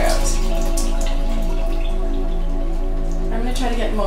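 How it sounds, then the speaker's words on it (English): Water drains out of a jar of soaked sprouting seeds, a continuous close splashing trickle with scattered drips, steady throughout. "I'm gonna try to get most of the water out of the jar"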